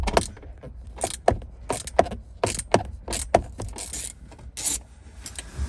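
A ratchet with an extension loosening a bolt on a Jeep during a blend door actuator repair, rapid metallic clicking in close bursts with short pauses and faint tool clinks.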